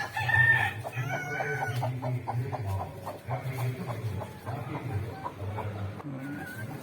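Native hens cluck repeatedly close by at a laying nest in short rhythmic bursts, with a few louder, drawn-out calls among them.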